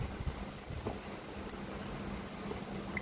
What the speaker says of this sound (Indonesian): Aduh, berangin.